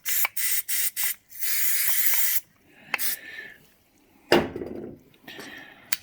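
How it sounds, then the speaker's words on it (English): Silicone dielectric spray is blasted into a Honda CB750 right-hand switchgear housing: several short hissing bursts, then one longer spray, followed by faint handling clicks and knocks close by. "So we'll chuck a bit more spray in there."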